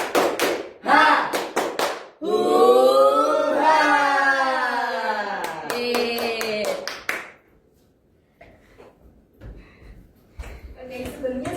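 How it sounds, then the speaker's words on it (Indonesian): A classroom joins in a rhythmic spirit-clap routine: a crisp run of fast hand claps, then voices chanting together, then a second flurry of claps, with fainter talk and shuffling afterward. "Oke, ayo bareng-bareng ya."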